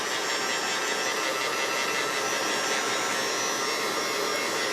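A hair dryer blows steadily on a junk journal page, giving a continuous loud, even whoosh with no breaks or speech.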